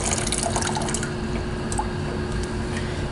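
Water runs from a dispenser in the gym of a Courtyard Marriott hotel in Milford, MA, a steady splashing stream with a brighter trickle over a constant background hum.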